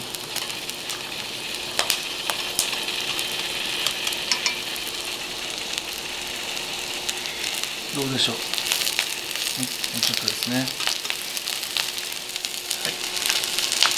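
White leek searing in a pan, a steady soft sizzle and crackle with a few faint clinks of the pan, under a calm voice speaking now and then.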